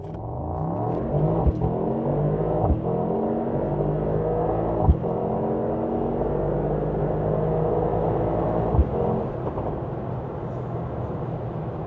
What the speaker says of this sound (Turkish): Güzel hızlanıyor. Heyecan verici yani gerçekten.